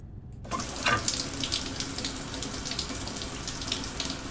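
Shower water running in the Stationeers game on Europa, a sudden start into a steady hiss of spraying water that carries on evenly to the end, with no voices.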